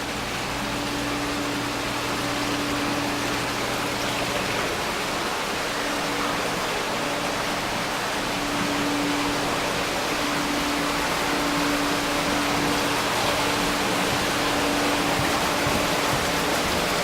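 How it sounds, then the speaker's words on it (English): Water drains steadily into the sump of a two-story indoor aquaponics system, a constant close rushing splash that holds at an even level throughout, with a faint hum beneath it. "They drain below into the sump you've seen pictured"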